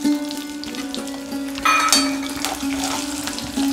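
Raw rice frying in hot coconut oil with mustard seeds, for a raw banana peel thoran; a steady close sizzle with scattered light crackles over a constant low hum, without talk.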